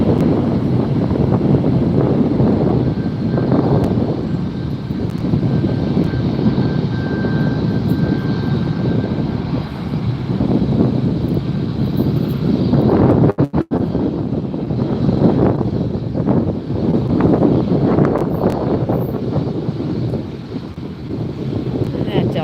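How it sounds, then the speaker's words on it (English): A Delta airliner takes off at LAX with a loud, continuous engine roar and rumble, buffeted by wind noise on the microphone, with the sound swelling and fading slightly over time. "so there's a Delta taking off"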